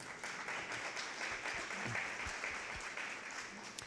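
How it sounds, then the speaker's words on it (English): An audience at an alumni association annual meeting applauds a sponsor, with dense, steady clapping from many hands that holds evenly for a few seconds. "Let's give Jeff a round of applause, please."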